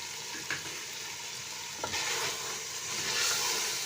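Mutton mince and potatoes frying with browned fried onion, a steady close sizzle broken by a few scraping stirs of a spoon in the pan, with no talking.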